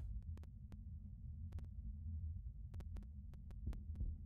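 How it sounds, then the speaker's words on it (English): Steady low thumping heartbeat from a horror video game, a continuous throbbing pulse with a dull hum beneath it and occasional faint clicks, heard alone without talk. "Aligning my heartbeat here."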